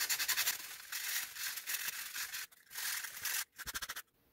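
Close, hand-driven scraping strokes with rapid back-and-forth rubbing, pausing briefly between bursts, like sandpaper worked over wood.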